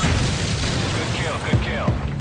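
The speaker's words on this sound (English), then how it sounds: "What you're hearing there is the sounds of the intro to Modern Warfare 2." Booming explosions and blasts from the Modern Warfare 2 intro, a Call of Duty video game, roll under a dense wash of noise with a couple of sharper thuds near the end.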